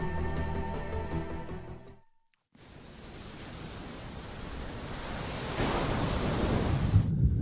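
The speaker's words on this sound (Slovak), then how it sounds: "Oceán." Ocean waves wash in a broad, steady roar that swells toward the end, coming in after a brief gap of silence, with no voices present.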